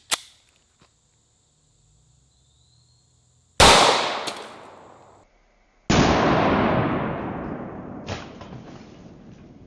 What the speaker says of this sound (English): Next up, 9mm out of the SIG